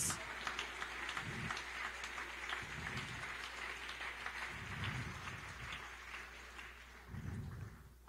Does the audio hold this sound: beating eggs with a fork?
no